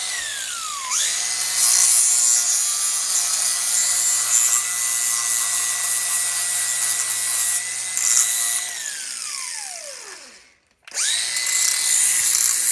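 Exhaust pipe pieces for a Bassani catback on a Terminator Cobra being trimmed with a power cutting tool: a steady, loud whine and grinding that winds down with a falling pitch, stops briefly, then starts up again.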